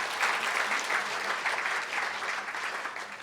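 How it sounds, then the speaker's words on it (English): A conference dinner audience applauds, a steady close wash of many hands clapping for about three seconds without voices. "let's give her a clap anyway"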